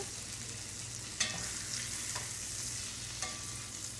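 Chicken pieces fry in a pan with a steady, fairly quiet sizzle and hiss, broken by a couple of faint clinks or stirs; no one speaks.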